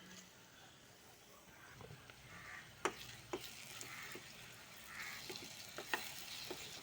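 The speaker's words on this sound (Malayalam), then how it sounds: "അതിലേക്ക് നമ്മൾ അരച്ചു വെച്ചിട്ടുള്ള മസാല ചേർത്ത് ഇളക്കി കൊടുക്കാം." Ground masala paste is stirred into onions frying in a pan for an egg ghee roast, a faint soft sizzle broken by occasional sharp clicks and scrapes of the spoon.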